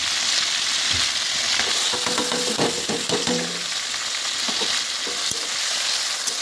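Onion and tomato fry for winter khichuri, hissing steadily in hot oil in a pan. A spatula scrapes and clinks now and then, and no one speaks.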